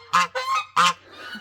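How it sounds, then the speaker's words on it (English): Domestic geese honking near a goose house on a cool evening outdoors: three loud, close nasal honks in quick succession, followed by a softer trailing call. "Do you guys have to be so noisy? I don't know if you can see Ferdinand over the top of the goose house."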